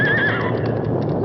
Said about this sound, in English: I should have known better than to start out with a spooky horse